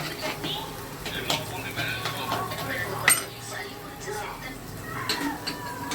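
Garlic goes into a pan of frying onions, fennel and curry leaves, bringing soft sizzling under spoon scrapes and clinks against the pot, with a sharp metallic tap partway through.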